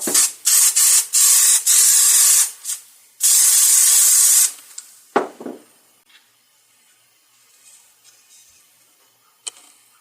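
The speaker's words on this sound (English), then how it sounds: "we'll use a little spray adhesive on the bottom of the block" Spray adhesive hisses from an aerosol can onto the bottom of a wooden push block in a woodworking shop. There are several short bursts and then one longer spray, loud and close, followed by quiet handling knocks.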